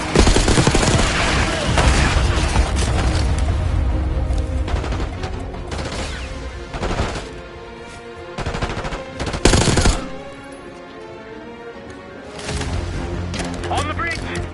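Dense automatic gunfire and bursts from a Call of Duty Black Ops 6 campaign battle, loud and sustained with brief lulls, while soldiers shout orders over the shooting.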